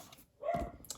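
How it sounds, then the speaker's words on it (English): A single short bark from a pet dog indoors at home, moderately loud and heard alone. "Sorry, that's my dog. It's barking crazy."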